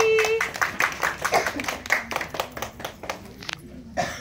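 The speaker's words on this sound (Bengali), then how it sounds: "সবার জন্য একটা হাততালি" A class of children clapping hands together, a sparse, uneven patter of claps in a busy room with talking throughout and a few brief louder bursts.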